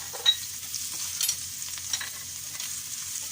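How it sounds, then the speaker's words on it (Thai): Garlic sizzles steadily in a hot pan, with a constant hiss broken by occasional scraping and stirring clatters close by. "หม้อกระทะร้อนแล้วเราก็เอากระเทียมใส่ เทียมใส่จ้า แล้วก็ผัด"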